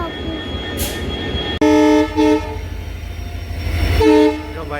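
A train rumbles past nearby at a railway station with loud, repeated horn blasts and steady clattering of rail cars.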